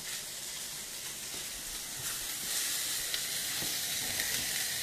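Small-cut vegetables for a potato hash sizzle in an oiled pan, a steady close-up hiss that holds for the whole stretch with light stirring clicks and no talking.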